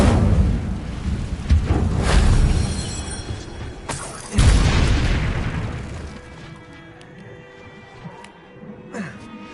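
Fire spell cast in Hogwarts Legacy: two loud, deep whooshing bursts of flame a couple of seconds apart, the second biggest, each trailing off into a rumbling crackle, then quieter game ambience with faint later pops.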